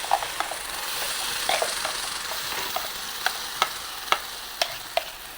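Ground green chili sambal goes into a hot tempering in a pan and fries with a soft, continuous sizzle. Sharp clicks and scrapes of a spoon stirring come through at a moderate distance, growing more frequent toward the end.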